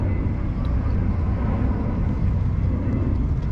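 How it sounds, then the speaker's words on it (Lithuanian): Airplanes take off at an airport in Croatia, heard as a steady, broad, low roar of jet engines. The roar stays continuous and fairly loud for a few seconds, with faint background voices. "kaip lėktuvai kyla"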